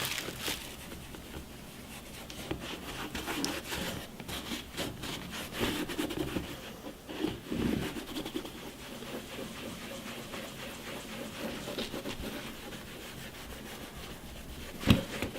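Finley's conditioner being rubbed by hand into leather boots, a soft, steady scuffing and brushing that continues close by for the whole stretch, with a brief sharper knock near the end.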